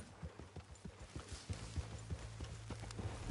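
Horse hooves clip-clopping in Red Dead Redemption 2, a steady quick rhythm of soft hoof knocks at moderate distance, faint and unaccompanied.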